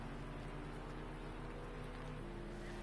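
Steady rain pours down at Fuji Speedway in the Project Cars 2 racing game, a dense continuous hiss of falling water with a low rumble beneath and no talk.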